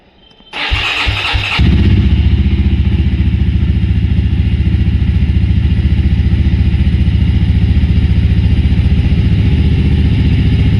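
A Mahindra Mojo XT 300 motorcycle cold-started in winter: a short cranking burst, then the engine catches and settles into a loud, steady close-up idle.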